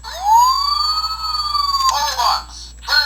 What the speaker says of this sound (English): There's a little button here under the ladder that if you push. He says Optimus Prime maximize. Makes a siren noise.